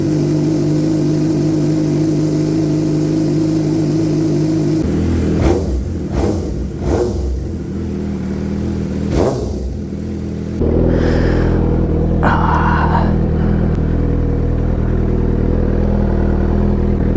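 A Suzuki GSX-R600 motorcycle fitted with a new exhaust runs loud and close, holding a steady idle, then blipping the throttle in several sharp revs before settling to a rougher, deeper drone.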